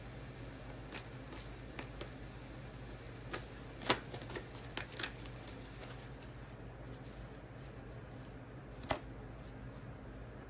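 Tarot cards shuffled close by in a quiet room, soft papery riffles and scattered light taps spread across several seconds with no talk over them.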